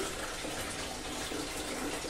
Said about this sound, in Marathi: या भांड्यामध्ये गार पाणी घ्यायचंय, गार पाणी.